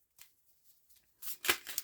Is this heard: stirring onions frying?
no